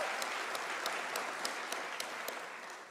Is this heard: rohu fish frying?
no